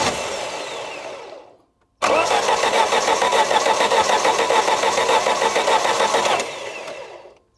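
The engine of a one-owner Swedish classic barn-find car, left unused for 32 years, fires after a short cranking run and settles into a steady, loud idle with a fast, even rhythm, then dies away near the end.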